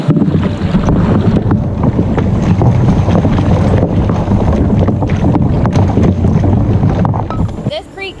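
A small boat pushing through trash-choked water on Chattanooga Creek, loud sloshing and churning with heavy wind buffeting the microphone, easing off in the last second.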